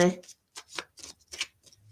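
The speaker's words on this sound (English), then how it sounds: "the card shuffling it is really relaxing, the noise" A quick riffle of playing cards being shuffled close up, with a voice speaking at the very start.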